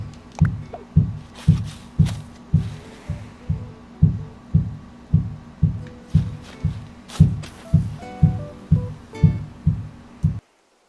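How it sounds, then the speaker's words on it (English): Steady repeated dull thumps, about two per second, of a child hitting his head against a wall, with faint background noise between hits. "My kid's hitting his head up against the wall."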